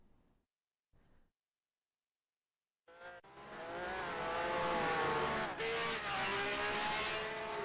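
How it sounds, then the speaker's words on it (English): A race car in a sim racing game roars in after a quiet stretch, its engine note loud and sustained with shifting harmonic pitch as it closes and passes, preceded by two brief faint bursts. "I can hear a car there."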